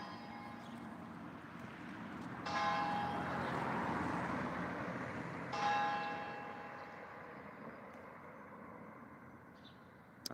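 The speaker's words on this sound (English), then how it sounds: "I don't know if you heard, but that was the bell" A bell rings twice in quiet surroundings, each strike a bright tone that fades slowly beneath a low, steady background murmur.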